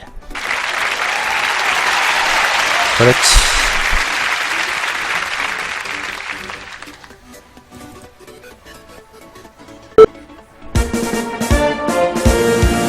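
Applause and crowd cheering in a golf-themed game show, swelling as a sustained wash for several seconds and then fading. Someone talks briefly in between, a sharp knock sounds, and bright musical tones follow.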